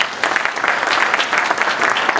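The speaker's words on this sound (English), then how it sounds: "Let's give him some applause, please." Steady applause from a live audience for a deputy at an embassy gathering in South Africa, a dense patter of many hands clapping continuously and fairly loud, with no voices over it.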